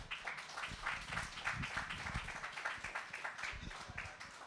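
Audience applause at a cannabis cultivation event, a dense patter of many hands clapping that rises and ebbs steadily, moderately loud and close, with no talk over it.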